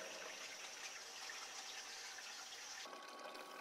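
An evaporative swamp cooler's water pump circulates and splashes water, a steady close rushing and trickling wash that holds throughout and thins slightly near the end, with no talking.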